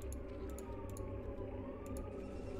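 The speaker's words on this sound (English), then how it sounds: "there's always sirens going off" A siren wails faintly in the distance on a Chicago street outside, a thin wavering tone beneath a steady low hum, with a few soft clicks scattered across the short stretch.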